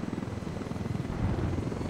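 A helicopter in a multiplayer shooter video game thrums steadily with a low, close rotor drone that holds for the whole moment without a break.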